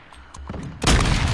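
Gunfire in Call of Duty Warzone, faint distant pops followed by a sudden loud burst of close, sustained shots that fills the end of the brief moment.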